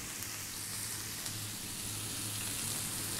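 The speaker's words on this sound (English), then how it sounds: "To that, we're gonna drop in all of that lovely chopped garlic" Chopped onion and garlic frying in oil over high heat, a steady dense sizzle with a faint low hum underneath, continuous and close, no talking.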